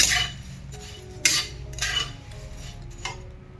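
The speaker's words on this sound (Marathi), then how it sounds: "आता छान असं खरपूस भाजून घ्यायचं पोहे" Poha, flattened rice, dry-roasting in a pan, with a spoon scraping and clinking against the metal in a few separate strokes and a dry rustle of flakes between them.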